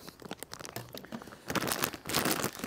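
Plastic spore packets being cut open and crinkled during oyster and shimeji mushroom growing, close, faint crackling and rustling in uneven bursts that grow busier in the second half.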